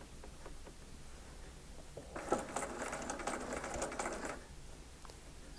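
A sewing machine stitches a seam into the corner of an eight-point star quilt block, a steady rapid patter starting partway through, running for about two seconds and then stopping, close and fairly quiet.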